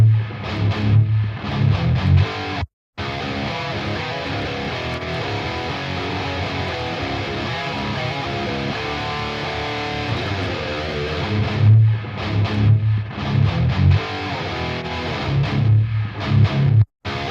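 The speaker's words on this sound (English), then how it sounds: "It adds some natural compression and a bit of distortion and like certain imperfections" An electric guitar plays through an IRDX impulse response plugin that adds compression and distortion, giving a dense, driven tone that rings continuously with brief pauses and stops, loud and close, with no voices.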